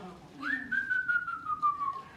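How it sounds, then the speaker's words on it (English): A single clear whistle rises sharply, then holds a long, slowly falling tone for well over a second, with soft background noise underneath. "we can whistle, okay?"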